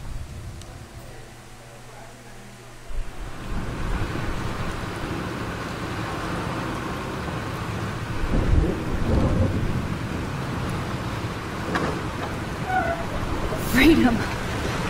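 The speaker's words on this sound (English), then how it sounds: "This storm is real." Thunderstorm in the video game Life is Strange: heavy rain hiss swells into a loud rolling roar with thunder rumbles and crackles, steady and close, after a quieter start.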